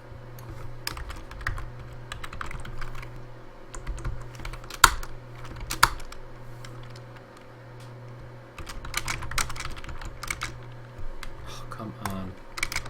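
Rapid, uneven typing on a computer keyboard runs almost continuously, close and clear, with a steady low hum underneath and brief pauses between bursts of keystrokes.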